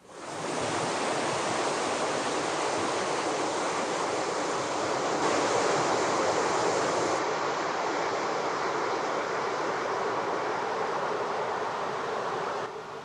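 Water roars out of four bypass tubes at Glen Canyon Dam, a steady, dense rushing like heavy surf that holds at constant loudness from start to finish, with no voices.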